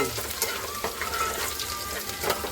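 Garlic frying in a pan with curry leaves, a dense close sizzle with scattered stirring scrapes and bursts of crackle that run through the short stretch.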